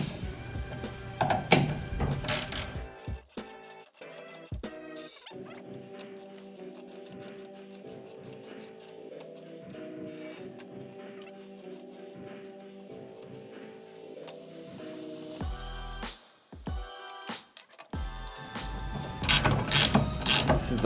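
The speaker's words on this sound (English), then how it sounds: "Now we're going to go back to tightening every single lock nut that we have." A ratchet tightens lock nuts on casters with long runs of rapid, steady pawl clicking, close and moderately loud, broken by a few louder clunks and handling knocks near the start and end.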